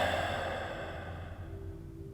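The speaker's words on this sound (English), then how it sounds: "Inhale. Audible exhale." A single long exhale during a yoga breathing exercise, a soft breathy sigh that fades over about two seconds, close and quiet with no talking.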